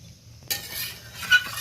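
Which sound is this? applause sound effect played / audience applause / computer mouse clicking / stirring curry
stirring curry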